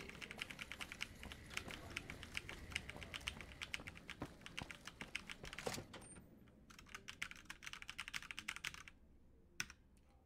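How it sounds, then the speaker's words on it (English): A loud computer keyboard clatters with rapid, dense keystrokes for several seconds, then slows into sparse, scattered clicks near the end. The typing is faint overall and no voices are heard. "Keyboard is so loud."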